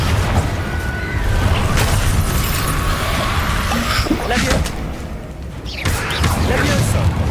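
Spell explosions in Hogwarts Legacy burst as loud booms and crashes, one after another, amid dense game effects and a constant mix of battle noise.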